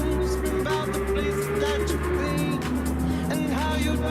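Audi R8 engine in a racing video game at Mount Panorama, a steady loud drone with shifting harmonic tones as it pulls and changes pitch; another car follows close behind, and a voice talks over it.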